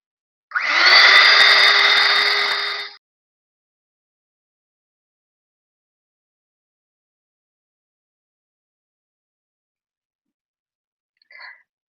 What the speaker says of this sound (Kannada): ನೀಟಾಗಿ ಈ ತರ ಬ್ಲೆಂಡಿಂಗ್ ಮಾಡ್ಕೊಬೇಕು.